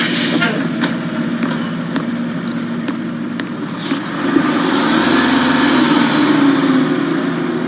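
A London bus engine idling on a busy street: a steady, close, low rumble with a continuous broadband wash of traffic noise that swells slightly in its second half.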